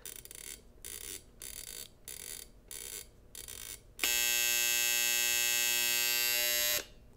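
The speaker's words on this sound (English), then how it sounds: "just so you can hear what the buzzer sounds like, it's just 60 hertz tone" A harsh 60 hertz electric buzzer on a Copal 227 flip clock drones steadily for about three seconds, close and loud, after several short pulsing buzzes.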